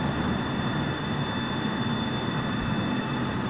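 Four jet engines of an E-3 Sentry AWACS at full throttle in Microsoft Flight Simulator roar as a loud, steady, continuous wash with a faint high whine, unbroken by voices.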